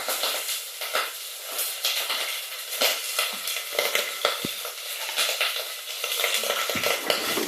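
Onions fry in a pan with a bright hiss, broken by repeated scraping stirs of a utensil against the pan, close and steady throughout.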